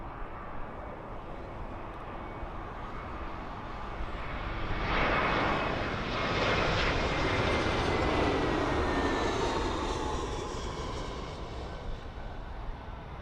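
An Air India Boeing 777 landing on runway 27L at London Heathrow gives a broad jet engine roar that swells in the middle as the aircraft passes, then eases off, heard from a distance outdoors.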